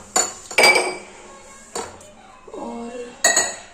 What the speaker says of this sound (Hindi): थोड़े से बर्तन धोए हुए थे तो मैं सोची थी उसे लगा देती हूँ